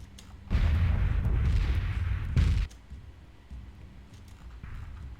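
Missile explosions in the space strategy game Sword of the Stars 2: a loud, sustained rumbling barrage of blasts lasting about two seconds, with a second burst, then fading into low background rumble.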